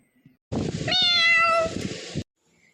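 A pet cat gives a single clear, drawn-out meow up close, rising and then falling over about a second and a half, with near silence before and after.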